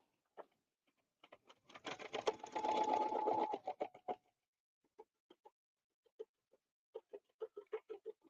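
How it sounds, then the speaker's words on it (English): A quilting sewing machine stitches a ruler design in a sustained run of about two seconds, bracketed by short separate bursts of stitching and tapping, close and fairly quiet. "So I'm going to stitch up a little, stitch back, and I'm going to break my threads."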